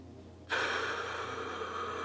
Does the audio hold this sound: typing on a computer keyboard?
no